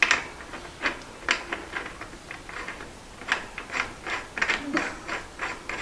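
A crank puller working on the crank of a Schwinn Airdyne exercise bike gives a run of close, light ratcheting clicks and ticks that repeat irregularly, with no talking.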